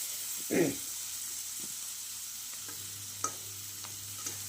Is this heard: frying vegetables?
yes